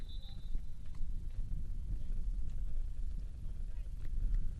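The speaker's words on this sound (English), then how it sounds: "It's getting windy here in Kissimmee, Florida." Wind gusts across an outdoor college men's soccer championship match in Kissimmee, Florida, rumbling as a steady low, buffeting roar against the microphone throughout, with faint broadcast talk in the background.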